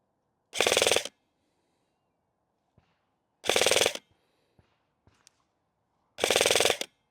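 Three short full-auto bursts from an airsoft gun firing 0.36 g BBs, each a dense rapid rattle about half a second long, evenly spaced with near silence between them.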